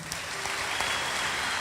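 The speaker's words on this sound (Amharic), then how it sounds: "አጨብጭቡላት" A short, even wash of audience applause: many hands clapping together in a steady, moderately loud burst with no voices on top.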